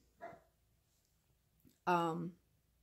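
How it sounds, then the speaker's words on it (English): A household dog gives a single short bark at moderate distance, preceded by a fainter yelp, with quiet room tone in between. "My husband must be back because I hear our dog barking."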